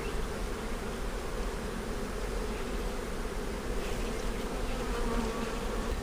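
Honeybees from a weak colony buzz in a dense, steady drone while the hive is pulled apart and worked, the swarm sound close and continuous with no voices.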